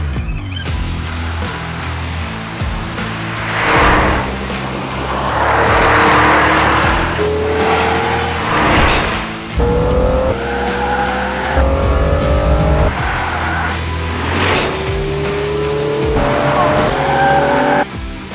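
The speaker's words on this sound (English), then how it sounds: "Today you'll be driving the Aston Martin DBX 707 under the guidance of a former Formula 1 world champion, Damon Hill." An Aston Martin DBX 707 on a test track, driven hard with a Formula 1 champion guiding, roars loudly through repeated gear changes and rising revs while its tires squeal in long bursts, voices briefly heard beneath.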